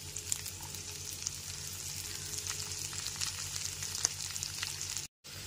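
Finely chopped onion frying in a pan over a medium flame for a potol chingri curry, giving a steady, even sizzle throughout with a brief cutout near the end.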